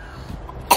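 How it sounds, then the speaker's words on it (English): A single short cough at the very end, fairly close and clear, after a brief stretch of quiet room noise. "cough it out real good"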